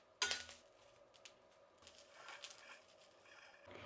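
Fried curry leaves and dal scraped from a pan onto a plate: a sharp metal clink at the start, then light scraping and soft clattering of utensil against cookware, faint and close, with no talk.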